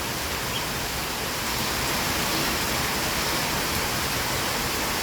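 Rain falling on a balcony makes a dense, even hiss that holds at a constant level throughout, with no voices.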